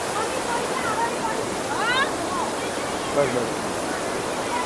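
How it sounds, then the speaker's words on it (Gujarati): Kempty Falls waterfall in Mussoorie makes a steady, broad rushing roar that fills the whole scene, with people's voices speaking and calling over it. "કુદરતી ઝરણું"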